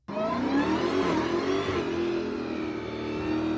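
A car engine revs hard and loud, climbing in pitch and then holding a steady high drone, close up and alone with no talking.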